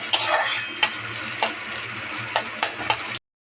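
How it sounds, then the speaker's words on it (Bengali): Tomato fries in a pan with onions already browned for a rohu fish and cauliflower curry. A soft continuous sizzle runs throughout, broken by several sharp scrapes of a spoon stirring against the pan. "এবার টমেটোটা এভাবে একটু করে নেব, ভাজা করে নেব টমেটোটাকে"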